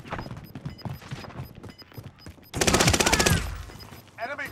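Gunfire in a multiplayer shooter, a burst of rapid automatic shots lasting about a second amid game noise, with intermittent speech and beeping interface tones before and after.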